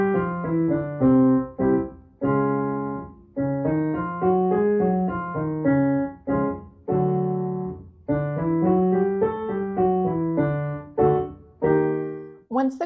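Piano plays a choir warm-up of five-note scale figures starting near middle C and moving up by half steps, in steady rhythm with short pauses between repeats, loud and close with no voices.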